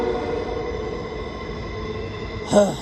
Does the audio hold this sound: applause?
no